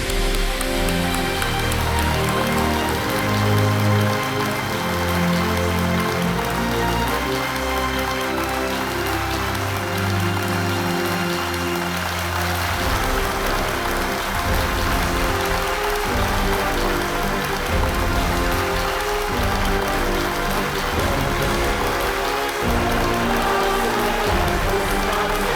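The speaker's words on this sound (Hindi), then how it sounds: "तालियों के साथ अभिनंदन" A television quiz show studio audience claps steadily for arriving guests, a dense, sustained patter of applause with no talk over it.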